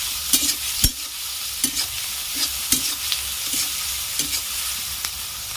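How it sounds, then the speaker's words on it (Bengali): Onions and tomatoes frying in a pan with a pinch of salt, stirred with a spatula: a steady sizzle carries through while sharp scraping strokes repeat at a loose, regular rhythm, close and alone. "পেঁয়াজটা আমার লাল লাল মতো করে ভাজা হয়ে গেছে"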